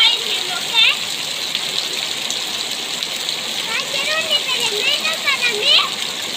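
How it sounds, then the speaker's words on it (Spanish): Heavy hurricane rain pours into a bottle, a loud steady gush and splatter of water up close, with a voice talking over the rushing flow. "Para que vean la fuerza del chorro del agua que está cayendo."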